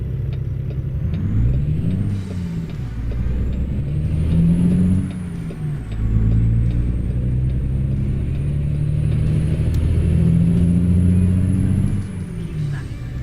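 Simulated heavy truck engine in American Truck Simulator, a steady close rumble that rises and falls through repeated gear changes across the run, with brief pauses between pulls.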